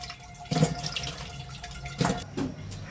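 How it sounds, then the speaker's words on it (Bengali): Cauliflower florets and potato slices rinsed under running water in a kitchen, with a steady water hiss and two louder splashy bursts as the vegetables are handled. "তো সুন্দর করে ফুলকপি আর আলুগুলো ধুয়ে নেব।"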